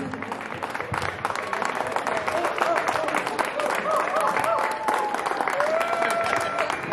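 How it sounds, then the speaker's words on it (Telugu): An audience at a committee oath ceremony applauds in a steady, dense wash of clapping that holds for several seconds at a fairly loud level, with faint speech beneath it. "Okay, big claps."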